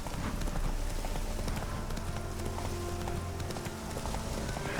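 Geralt's horse Roach galloping in The Witcher 3: a steady, rapid clip-clop of hooves over a dense bed of game ambience, continuous and moderately loud throughout.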